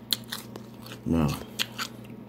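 A single crunchy bite into a homemade sandwich of cheese, lettuce, tomato, onion and broccoli, close and fairly loud, followed by a few soft chewing crackles.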